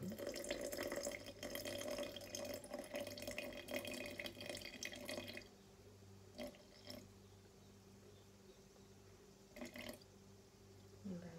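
Water, about 55 to 60 grams, is poured for a sourdough starter for bread, a steady splashing trickle for several seconds that stops, followed by a quiet room with a couple of soft knocks.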